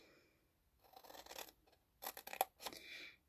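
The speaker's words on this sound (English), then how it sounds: "I like to go to my snips. Those are my go-to." Stampin' Up precision scissors snip paper for a small gift box: a few quick, faint, close crisp cuts and rustles in short bursts with quiet gaps, no voices.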